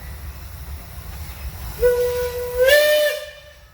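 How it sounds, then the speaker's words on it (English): A steam traction engine's whistle sounds at a steam engine parade in Georgetown, a clear tonal blast that rises in pitch partway through and then cuts off, heard over a low rumbling background without talk. "How about a whistle, Nate?"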